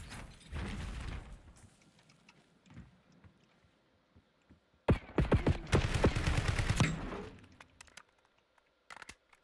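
Gunfire in Call of Duty: Warzone, a loud burst of rapid automatic shots lasting a couple of seconds, then scattered single cracks, with rustling movement and mechanical clatter around it.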